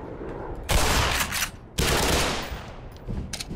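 Shotgun blasts in the video game Black Mesa: Xen, two loud booming shots about a second apart, each with a ringing decay, followed by fainter clattering bursts of gunfire.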